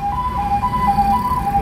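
An ambulance siren wails in a fast two-tone alternating pattern, steady and fairly close, over low traffic rumble in Bhiwandi, Maharashtra.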